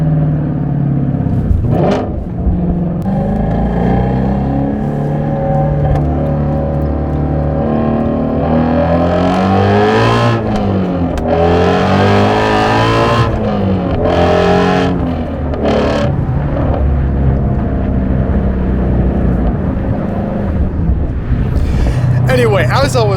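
A 526 hp 2017 Shelby GT350 engine roars loudly from inside the cabin, revving up and dropping through several downshifts with rising and falling pitch, a deep continuous rumble throughout while someone talks over it.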